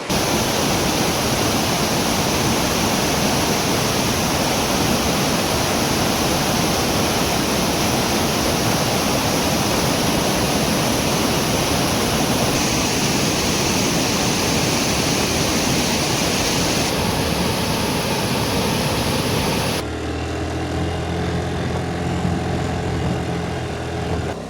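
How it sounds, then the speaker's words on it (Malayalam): Ilappilly waterfall roars as a loud, continuous broadband rush of falling water, close and steady throughout, with no voices. "അപ്പോൾ ആ കാണാനാണ് ഇലപ്പിള്ളി വെള്ളച്ചാട്ടം."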